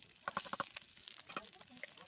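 Chopped onion, cumin and chilli frying in oil in a wok, with a few quick sizzling, crackling bursts over a soft background hiss.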